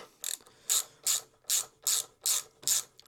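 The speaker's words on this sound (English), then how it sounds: "So what I'm now just taking out the shock bolt" A hand ratchet loosens the shock bolt on a Harley-Davidson Forty-Eight motorcycle, making seven evenly spaced bursts of crisp, close clicking in a steady back-and-forth rhythm.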